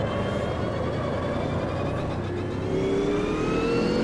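Sauber C9 Group C race car in a racing game at Spa 1993, engine droning steadily up close with rising pitch as it accelerates, continuous and fairly loud with no talk.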